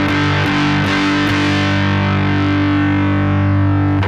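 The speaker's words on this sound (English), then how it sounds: "So far, when we're playing this chord, we're strumming all 3 notes, but without touching the strings in any way but with the pick." Someone strums a distorted electric guitar power chord with a pick, hitting all three strings without muting. Several picked attacks land in the first second and a half, then a thick, buzzing chord rings loud and sustained.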